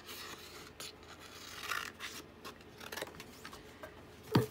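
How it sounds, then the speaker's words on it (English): Scissors cut through paper while trimming photo pockets, giving a few soft, intermittent snips and rustles at close range in a quiet room, ending with one sharper, louder cut. "So I'm just going to cut this down."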